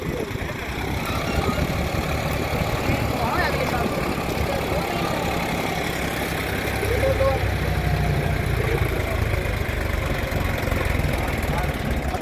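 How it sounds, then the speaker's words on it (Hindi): Sonalika DI-35 39 HP tractor engine running steadily in a field, a continuous loud low rumble throughout with no clear breaks. "ये है सोनालिका का DI-35 39 HP ट्रैक्टर का जो है ट्रैक्टर है"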